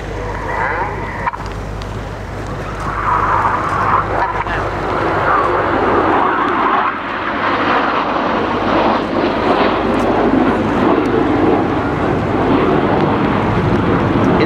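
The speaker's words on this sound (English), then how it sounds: "As those aircraft swing out like a pendulum, they start a manoeuvre called the helix." Red Arrows jets flying the helix manoeuvre at an air show, a loud continuous roar of jet engines that swells and lingers across the sky, with a commentator's voice partly under it.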